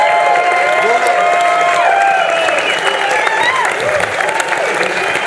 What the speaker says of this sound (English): But first, a round of applause for everyone.